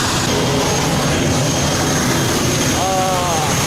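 The steady, loud roar of the turboprop engines on an ATR airplane, a continuous broadband drone heard up close with a faint tonal whine entering near the end.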